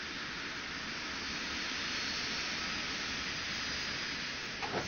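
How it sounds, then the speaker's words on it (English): A private Lear jet's engines give a steady, broad roaring whoosh that holds at an even level throughout, heard from inside or nearby with no talk. "A private Lear jet has been chartered specially by Riyadh."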